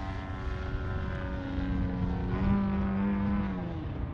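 An Extreme Flight Laser RC airplane flies overhead, its propeller and engine droning steadily with a slight rise in pitch and loudness midway, fairly close and with no talk.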